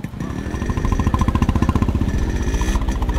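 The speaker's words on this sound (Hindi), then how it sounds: "बाइक चालू रख।" A motorcycle engine idles close by with a loud, rapid, throbbing chug that keeps a steady rhythm and quickens slightly midway. No voices are heard over it.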